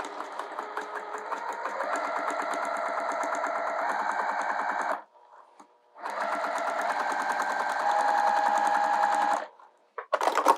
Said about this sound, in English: And we'll go across to sew it down.